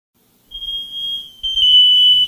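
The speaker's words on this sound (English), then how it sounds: "Now, you hear all the detectors blaring, all of them going at the same time." Canary wireless smoke detectors going off together in a house, a loud, piercing continuous alarm tone that starts abruptly, then grows louder and thicker as more units join in.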